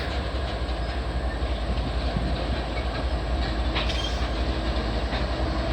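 Idling freight train locomotive engines rumble steadily with deep low-end drone and broadband noise, continuous and loud throughout, with no voices.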